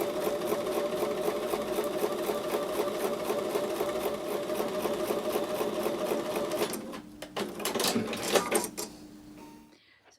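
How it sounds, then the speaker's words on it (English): Sewing machine stitching a quilt block with a quarter-inch seam, a fast steady mechanical chatter running continuously, then stopping and giving way to a few clicks and handling sounds near the end. "So I'm going to take those to the sewing machine and sew with a 1/4 inch seam."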